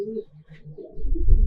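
Pigeon cooing from a loft of racing pigeons in Munshiganj, a few low rounded coos close by, followed by rustling handling noise and low thumps.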